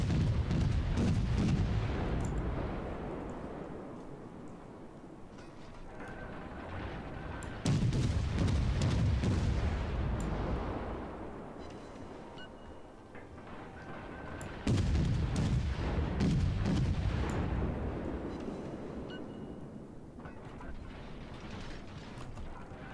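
Naval artillery salvos in World of Warships, three heavy booming volleys spaced several seconds apart, each followed by a long rumbling decay with mechanical clanking, loud and close.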